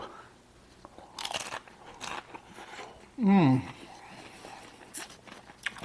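Crunchy nacho chips being chewed up close, with short crackly bites and munching, interrupted by a brief voiced sound in the middle.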